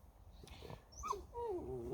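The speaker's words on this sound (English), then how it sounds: "there's a dog trying to crawl underneath to give you a ball" A dog whimpers and whines nearby, eager to play ball, giving soft rising yelps and a longer wavering whine that grows louder toward the end, with no one speaking.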